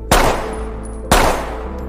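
A pistol fires twice in a film scene, two sharp loud cracks about a second apart, each with a decaying ring-out, no voices.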